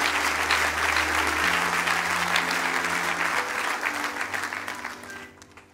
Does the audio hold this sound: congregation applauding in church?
yes